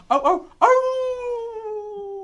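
A person imitates a dog, giving two short yelping barks and then a long drawn-out howl-like tone, close and fairly loud.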